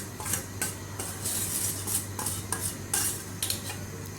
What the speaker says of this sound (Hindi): इसको अच्छी तरह से मिक्स करना है आपने